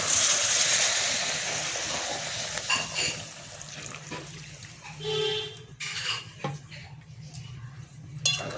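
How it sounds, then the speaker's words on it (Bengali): Water poured into a soyabean masala simmering in a pan, heard as a brief splash amid scattered clinks of a utensil and pot, moderately close with no talking. "এর মধ্যে একটু জল দিয়ে দেবো"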